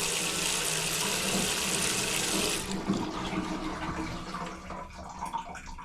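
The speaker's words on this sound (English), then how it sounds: "Let's just run the sink for a sec." A bathroom sink tap in a hotel room in Japan runs in a loud, steady gush of water, then cuts back to quieter trickles and gurgles draining away, close by with no talking.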